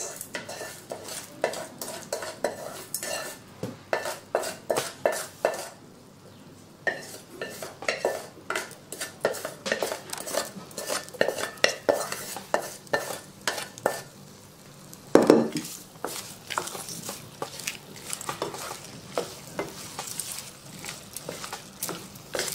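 A spoon stirs tempered tadka through cooked rice for tamarind pickle biryani, with steady scraping and clinking against the pot and a light sizzle, repeated in a continuous rhythm at close range.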